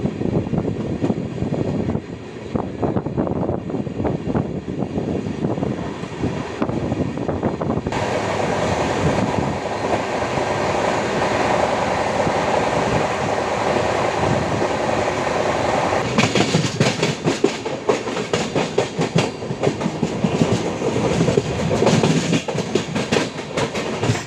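A non-AC Intercity Express train from Chennai to Tirupur runs at speed, with a loud continuous roar and rattle of wheels on track, rising in intensity partway through, heard from on board.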